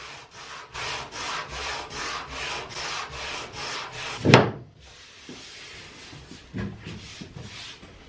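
Rhythmic strokes of sandpaper rub back and forth across the wooden fairing of a boat skeg, about a dozen steady passes followed by a sharp knock and quieter scraping.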